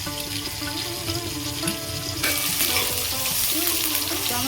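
Spice paste of turmeric, ginger paste and water frying in a pan for a cauliflower fish curry, a steady close sizzle that jumps louder and brighter midway as the wet paste hits the hot oil.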